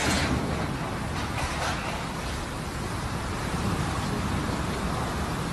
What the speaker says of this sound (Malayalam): പെരുമഴയാണ് ഇന്നലെ ജീസാൻ അസീർ മലയോര മേഖലയിലുണ്ടായത്.